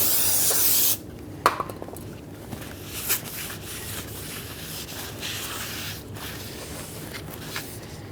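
Parts cleaner sprays from an aerosol can onto a Ford F-150 brake rotor in a short loud hissing burst, followed by quieter rustling and wiping sounds up close.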